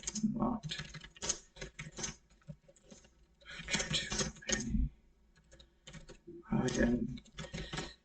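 Keys clatter on a computer keyboard in quick bursts as a ticket description is typed, close and fairly quiet, with pauses between flurries and a voice talking over parts of it.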